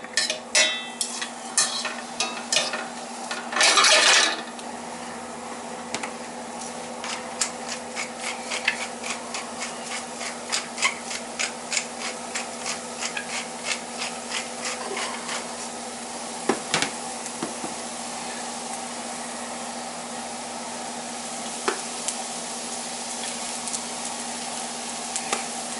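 Mushrooms fry in a pan alongside a steak dinner being prepared, a soft continuous sizzle with repeated scraping and stirring strokes throughout, fairly close and quiet, with no talking.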